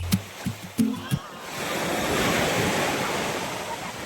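Ocean surf at Sidell Beach on Mindoro, a steady broad rush of breaking waves that holds on continuously after a few brief knocks and handling bumps at the start.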